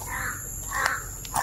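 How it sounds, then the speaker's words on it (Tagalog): Crows cawing outdoors, a few harsh calls spread over a moment at moderate distance, one sharper caw near the end, with a steady background hiss. "May mga uwak pa oh."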